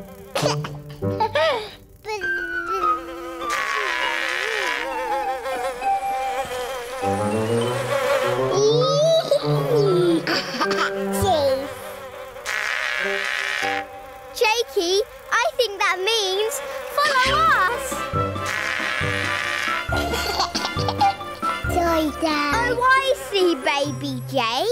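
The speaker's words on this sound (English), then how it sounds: "Baby Jake, the buzzy bee wants your help at the honey well." Cartoon purple space bees buzz steadily through a children's animated episode, the insect drone blending with bright music and sound effects for about 25 seconds at a fairly loud level.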